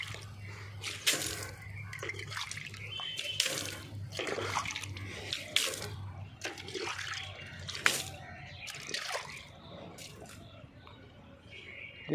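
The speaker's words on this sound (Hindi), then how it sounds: "मैं इस पर पानी गिराता हूँ।" Water poured onto a Makrana marble slab, splashing and trickling in irregular bursts over a low steady hum, with someone talking intermittently.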